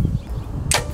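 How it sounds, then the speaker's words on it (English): A single arrow leaves a hunting bow with a soft thump, then a sharp, bright impact crack lands moments later, close and clear in windy outdoor air. "I can see my arrow, you know, kind of come out of the bow and straighten back out"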